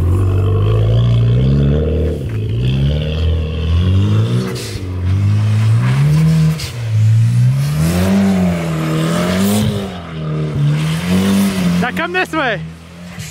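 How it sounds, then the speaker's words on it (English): Mitsubishi Evo X engine revving hard and falling back in repeated rising and dipping waves while the car drifts, loud and close, with people talking over it throughout. "try to slide one way and then come out of it and go the opposite way"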